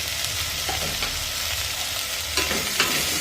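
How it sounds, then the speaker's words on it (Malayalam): Potato curry being stirred in a pan with salt added, giving a steady close-up sizzle and frying hiss with a few scraping stir strokes near the end. "നന്നായി ഒന്ന് ഇളക്കി കൊടുക്കാം കൂടെ കറിക്ക് ആവശ്യമായ ഉപ്പൂടെ ചേർത്ത് കൊടുക്കാം"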